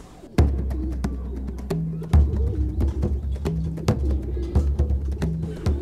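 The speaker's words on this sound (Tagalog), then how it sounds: "Ang ibon ko po, nailabas ko na siya, nai-viewing ko na at nakalipad na po sa loft." Racing pigeons at their loft coo softly and repeatedly, with sharp wing claps and thumps breaking in at irregular moments, close by and fairly loud.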